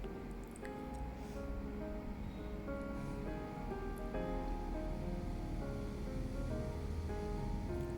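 Chicken 65 pieces coated with Kashmiri chili powder sizzle in a pan as they are turned and cooked, giving a steady, dense frying hiss that continues without a break and without voices.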